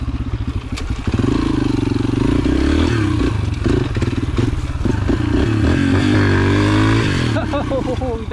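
A pit bike engine screams loud and close while riding in second gear at full throttle in the dunes, the pitch climbing steadily, with wind buffeting and some clatter over it.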